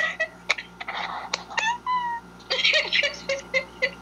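A house cat meows again and again in short, close, fairly loud calls, some drawn out and some clipped, with faint room background between them.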